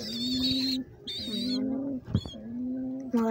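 Pigeons with young coo up close in a loft, a sequence of low throaty rolling coos, one after another with short pauses between, with a faint higher bird call heard alongside them.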